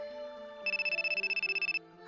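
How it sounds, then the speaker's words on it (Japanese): A telephone rings at a curry shop with a rapid electronic trill of roughly a dozen pulses in about a second, close and clear over a soft musical background. "店に電話がかかってきました。"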